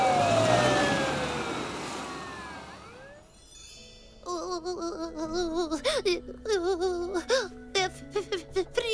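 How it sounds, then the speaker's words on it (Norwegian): A wailing ambulance siren rises and falls in a cartoon emergency callout to the mountains, loud at first and then fading, followed by a voice speaking after a short lull. "Utrykning til fjellet. Morten og Mia kan være sterkt nedkjølte. Vi trenger ambulanse med en gang"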